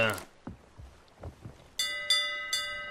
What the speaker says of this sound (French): On sonne la cloche.